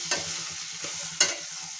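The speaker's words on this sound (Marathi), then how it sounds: "बटाटे सगळ्या मसाल्यांमध्ये मिक्स होतील आपल्याला असे हे परतवून घ्यायचे आहे" Potatoes coated in masala spices are stirred in a hot pan under a soft sizzle. Two sharper scraping strokes of the spoon stand out in a brief, close burst.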